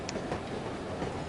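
Train ride in the No One Lives Forever video game: a steady, dense rumble of rolling wagons with faint rhythmic clatter, continuous and even in level, with no voices.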